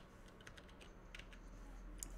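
Keys tapping on a computer keyboard while typing into the Windows start menu search: a short run of quiet, irregular clicks over a low hum.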